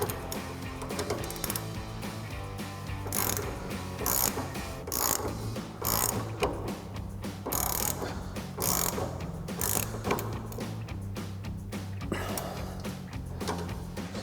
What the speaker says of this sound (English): You want to once again grab your 18 mil ratchet wrench and 8 mil socket.